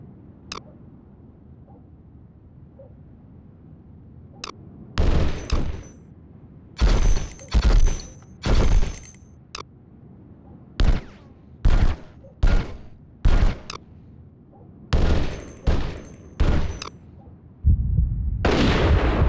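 Bursts of small-arms gunfire from a squad at a firing range in the Desert Storm video game, in several irregular volleys of rapid shots separated by short pauses, loud and close, ending in a sustained rumble.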